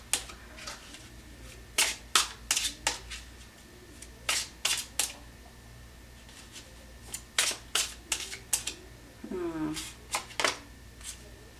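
Tarot cards are shuffled in repeated crisp riffling bursts, close and fairly loud, in several rapid clusters, with a brief voice sound partway through.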